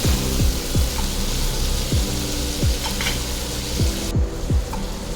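Ivy gourd (tondli) fries in a pan with a loud, steady, close sizzle that holds throughout, broken by a few faint repeated swooping tones; no one speaks.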